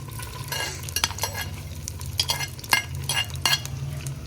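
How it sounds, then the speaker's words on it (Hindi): Onions frying in hot oil in a kadhai while being stirred, a continuous close sizzle broken by repeated scraping strokes of a spoon against the metal pan. "प्याज की अच्छे से भुनाई करेंगे।"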